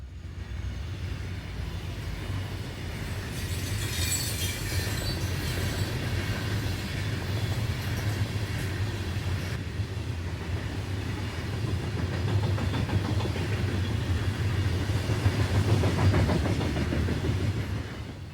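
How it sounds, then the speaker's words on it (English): An eastbound CSX coal train passes at milepost 130 in 1992, its locomotives growling low under a steady roll of wagons and wheels, with brief brighter rattles and clatter. "For an eastbound coal, B889 growls past"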